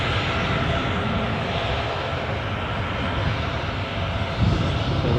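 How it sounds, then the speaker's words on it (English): A passenger plane bound for Palma, Mallorca roars steadily at an airport, its engine drone loud and continuous throughout with no talk. "the plane you are looking at is off to Palma"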